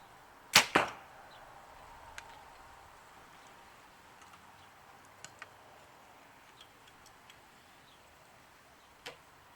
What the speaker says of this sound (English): So these last 2 arrows, I'm going to pay particular attention to it to make sure it's all aligned correctly and see if we can put them in the 10.